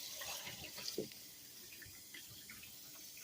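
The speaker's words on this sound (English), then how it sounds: "I'm gonna finish rinsing this out, getting this all cleaned" Water running from a kitchen tap while a raw turkey is rinsed out for holiday cooking, heard as a soft, steady stream with small splashes and drips at moderate distance, with no talking.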